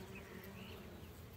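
Bees buzz in a natural outdoor setting, a soft, steady drone heard at low level throughout with no break.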